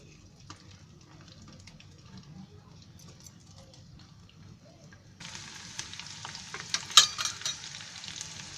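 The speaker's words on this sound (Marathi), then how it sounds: "आता हा तळण्यासाठी कांदा ठेवला आहे जरा फोडणीसाठी" Chopped onion hits hot oil in a wok and breaks into a loud, steady sizzle partway through, with crackling bursts soon after. Before that there is only quiet kitchen background.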